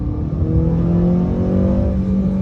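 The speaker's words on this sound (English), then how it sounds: "I do like this engine note" A 2022 Acura ILX engine pulls hard under acceleration, its note rising steadily with harmonic tones climbing over a deep, constant rumble, loud and close.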